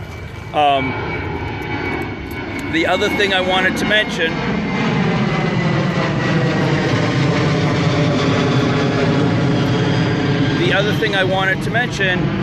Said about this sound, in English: Sorry, jet overhead.